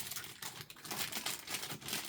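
Close crinkling and crackling of the plastic packaging of a grilled-cheese-sandwich slime toy being pulled open, a continuous rustle with small rhythmic bursts.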